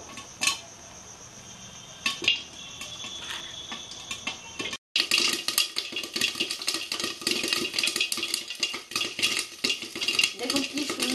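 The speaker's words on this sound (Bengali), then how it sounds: "দেখুন কি সুন্দর পপকর্নটা ভাজা হচ্ছে" Corn kernels pop in a covered pan on the stove, Bengali-style popcorn, with a dense run of crackling pops against the lid that starts sparse and then becomes loud and continuous, close up and without speech.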